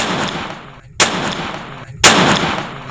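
Celebratory gunfire by a politician in Bihar: two sharp, loud shots about a second apart, each ringing out and echoing into a steady outdoor background, with no talking.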